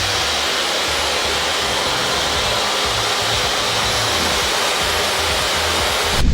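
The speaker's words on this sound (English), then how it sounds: "I'm going to go gently lifting with the dryer to pick up the curl." A hair dryer blows steadily and loudly while drying gel-styled curly hair, a continuous broadband whoosh that holds for several seconds before cutting off abruptly at the end.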